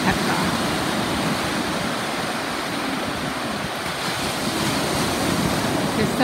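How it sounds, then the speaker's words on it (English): Small waves break and wash onto a sandy beach at Cat Ba Island, Vietnam, forming a steady, broad rushing wash with light wind across the microphone and no distinct individual crashes. "It's so nice to listen to the waves rolling in."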